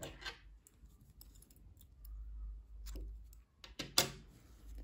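Scissors cut knitting yarn in a quiet room, giving a few soft, close snips and metallic clicks spread out over a few seconds, the last one the sharpest.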